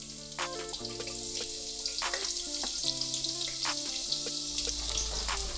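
Chopped onion frying in oil and homemade ghee in a cooking pot on the stove, a steady, close sizzle throughout with a few soft clicks and a faint melodic tone underneath.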